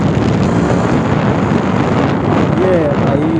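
A Jawa 42 motorcycle out on a Sunday ride, its low engine rumble buried under steady, heavy wind buffeting across the whole stretch.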